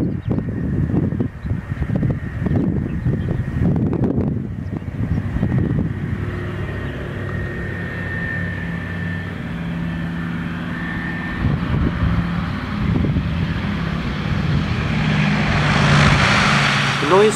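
A Douglas Dakota propeller transport aircraft drones overhead while circling to land at night, its engine hum rising and falling as it approaches and passes, with wind noise and occasional voices beneath.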